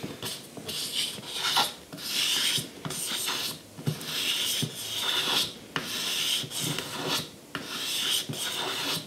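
A carving knife scrapes along the wooden edge of a guitar body to smooth it, giving repeated raspy, close strokes in a steady back-and-forth rhythm with brief pauses, no talking.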